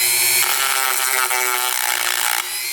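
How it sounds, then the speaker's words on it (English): A small grinder grinds off pins on an old motorcycle that sat for 27 years, giving a loud, close, continuous high-pitched whine that shifts slightly in pitch as it bites into the metal. "I've got our little grinder here. Let's just grind those off."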